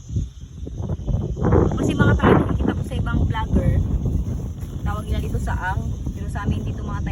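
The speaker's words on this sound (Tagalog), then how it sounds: "nagalakas yung hangin, nagbo-blurred-blurred" Strong, steady wind roars across a seashore while a person speaks over it throughout, the gusty rush filling the background without pause.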